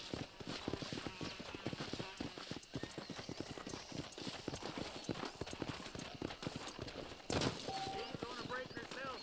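Horse hooves clip-clop at a walking pace in the Western video game Red Dead Redemption on PS5, with a steady rhythm of close hoofbeats, a brief whinny and characters talking throughout.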